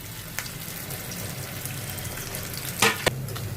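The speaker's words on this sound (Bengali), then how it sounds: "প্রথমে আমি তেল দিলাম কড়াতে, দেওয়ার পরে আলুটা দিয়ে দিলাম।" Spiced mashed potatoes frying in oil in a kadai, a soft steady sizzle with a couple of sharper clinks or stirring sounds near the end, close and without speech.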